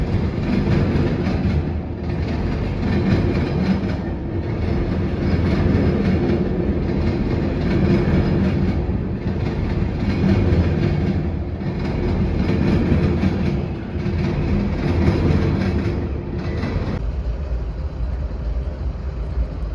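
A long freight train rolls steadily past at close range near the Marion, Ohio double diamonds, pulling an old Conrail-painted caboose on the front, with continuous loud rumble and repeating rhythmic clatter from the wheels.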